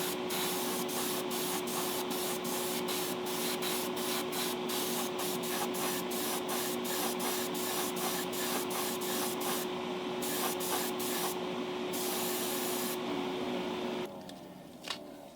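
Steady, loud hiss of a spray gun laying a lighter brown stripe along the upper interior of a custom crew cab pickup, running continuously with brief pulsed bursts before cutting off near the end.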